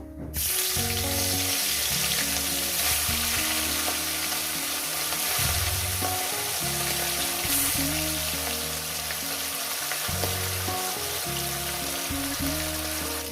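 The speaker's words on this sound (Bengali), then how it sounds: "একেবারে মাছগুলো একেবারে ভেজে নিচ্ছি" Rohu fish pieces frying in oil, a loud continuous close sizzle lasting throughout, with steady tonal background music underneath.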